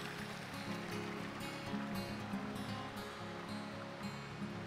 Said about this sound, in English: it is pumped by water into the cleaning channel where leaves and debris are taken out